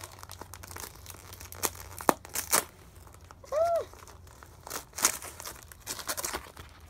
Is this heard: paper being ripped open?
yes